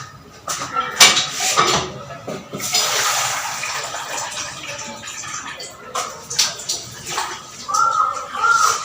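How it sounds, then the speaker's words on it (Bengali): Rice is rinsed in water in a home kitchen, with splashing, sloshing and swirling in bursts and a few clinks of a pot, close and fairly loud. "একটু চালটাকে একটু ধুয়ে নেবো"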